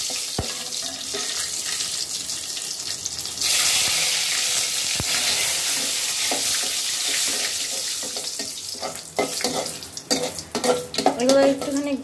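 Cumin seeds, dried red chillies and bay leaves frying in hot oil in a pan, a steady sizzle that briefly surges louder, followed by clinks and stirring toward the end.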